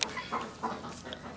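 Hens cluck softly in a farmyard flock, with a few short, close clucks scattered over a faint outdoor background.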